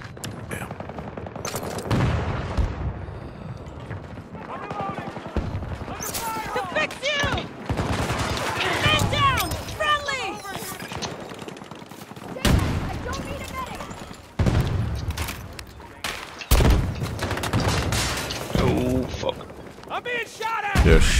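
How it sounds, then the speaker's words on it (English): Battlefield 2042 multiplayer firefight with dense bursts of automatic gunfire, rapid single shots and occasional blasts going on throughout, loud and close. Players talk excitedly over the shooting. "they're shooting"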